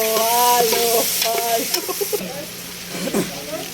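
Food frying in a pan with oyster sauce, stirred with a utensil: steady sizzling and scraping strokes close by, with a few clinks and occasional faint voice sounds in the background.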